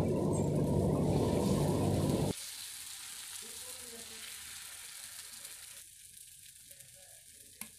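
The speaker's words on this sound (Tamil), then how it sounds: "இப்போ நான் உங்களுக்கு தோசை சுட்டு காட்டுறேன் பாருங்கள்" Pearl millet dosa batter sizzles loudly on a hot pan for about two seconds, then the sound drops to a quieter, steady crackle with faint scraping.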